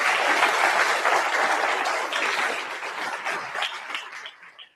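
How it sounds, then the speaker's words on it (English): A university audience gives a round of applause to task force members standing in the hall. The dense crowd clapping starts full and loud, then gradually tapers and thins toward the end. "Let's give them a round of applause."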